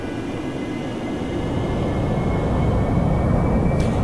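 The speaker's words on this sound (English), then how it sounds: "if I put the nozzles up there and I go full throttle" An AV-8B Harrier jet in DCS World with its nozzles raised runs at full throttle, a steady, loud roar with a thin whine that builds slightly as power climbs.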